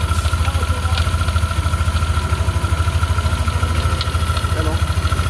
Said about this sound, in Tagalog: Check natin kung ano yung lumalagatak-lagatak na yan.